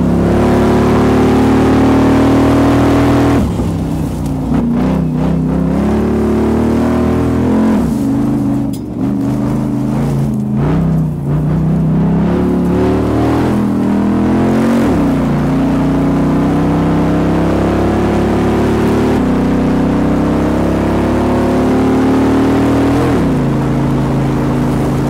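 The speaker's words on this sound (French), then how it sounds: "ce petit coup de gaz quand il rétrograde, là, on dirait une boîte manuelle" A two-tonne Jeep with a swapped Corvette LS V8 pulls hard, its loud engine note rising and falling through repeated downshifts with throttle blips, heard steadily from inside the cabin.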